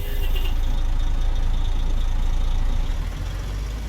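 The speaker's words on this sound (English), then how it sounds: "it's not the first time we've had this loop anomaly going on with Zeemods engines, but still, it just sounds so realistic" A Kenworth W900L truck engine with a Zeemods sound mod in American Truck Simulator rumbles steadily at a deep, full idle, loud and continuous, alone without voices.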